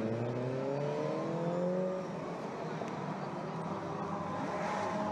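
A 1965 Lotus 7 race car at the Circuit des Remparts historic race, its engine note passing at moderate distance with a falling pitch as it goes by, then fading into a steady background rumble.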